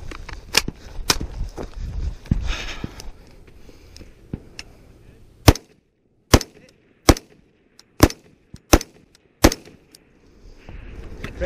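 Sharp gunshots crack out at a shooting course, a few early shots then a spaced series of single loud reports about a second apart, with quiet handling noise between them.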